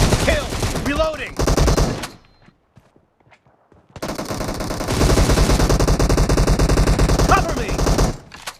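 Assault rifle fire in the mobile shooter PUBG Mobile, loud rapid automatic bursts close by, broken by a brief lull before a long sustained burst resumes, with faint game voices mixed in.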